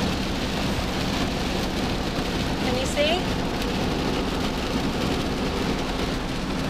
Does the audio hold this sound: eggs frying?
no